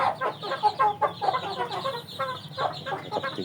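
Chickens belonging to a neighbour cluck in busy, rapid bursts close by, the calls overlapping continuously with no talking.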